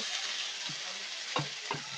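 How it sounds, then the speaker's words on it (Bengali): Chopped tomato and onion frying in a pan for pasta, a dense bright sizzle with a few soft stirring knocks near the end, close and steady, no voices. "এর মধ্যে আমরা টমেটো কুচিটা দিয়ে দেব"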